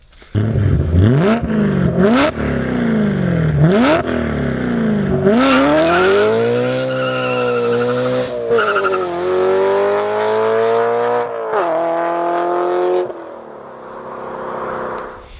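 A BMW E90 M3 with a manual gearbox, test pipes replacing the primary cats and an ACM exhaust mod revs sharply several times, then climbs through gears with a loud, snarling exhaust note, rising and falling pitch throughout.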